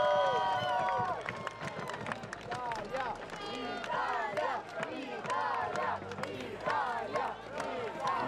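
Loud crowd cheering and shouting in support of Italy 2 before a 5-vs-5 armored medieval combat bout at Battle of the Nations 2016, a dense continuous roar with whistles and yells, while people talk through it.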